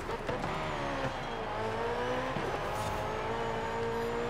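A Ferrari racing car engine in a video game drones and revs continuously, pitch climbing and dropping through gear changes, loud and close with a faint tire squeal.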